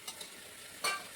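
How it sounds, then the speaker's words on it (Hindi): Turmeric and tomatoes frying in a pan over a high flame, a faint steady sizzle with a brief stirring scrape near the end. "हल्दी भून रही है, जितने भी टमाटर है सारे डाल देंगे।"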